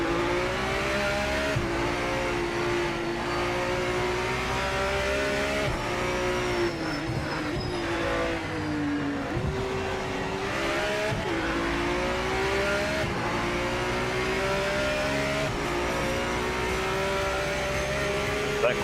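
Race cars in Project Motor Racing, including an LMDH prototype, howl continuously at high revs with rising and falling engine pitch through gear changes, a car close ahead, tyres squealing briefly, and a voice talking now and then over the engines.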